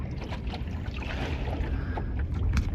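A small sailboat moves on calm water, with a steady wash of wind and gentle water noise around the hull, close and continuous with no voices.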